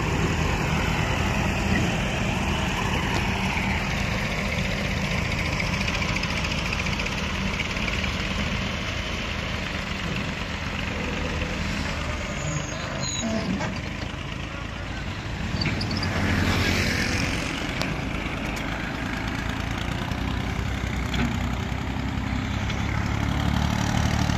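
A steady low tractor engine rumble idles continuously, fairly loud and unchanging, with a slight swell in the middle.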